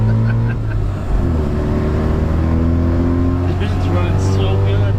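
A Mazda rotary pickup truck's engine runs steadily while driving in freezing cold weather, a loud, close, continuous drone with a slight shift in pitch near the start.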